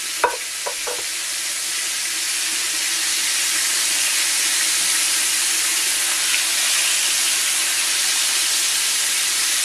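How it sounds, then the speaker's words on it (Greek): Liver frying in olive oil in a pan, a steady, loud broadband sizzle that holds throughout, with a few sharp clicks and pops near the start. "Το αφήνουμε να τηγανιστεί από τη μία μεριά καλά, κάνουμε ένα γύρισμα να τηγανιστεί και από την άλλη"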